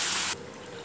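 Thick tamarind water for puli inji splashes into a pan in a short, close gush that stops abruptly, leaving a faint hiss.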